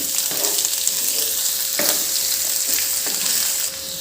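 Onion and tomato sauté in a hot pan for a paneer capsicum masala, giving a steady close sizzle with a few stirring clicks and scrapes, without any voices.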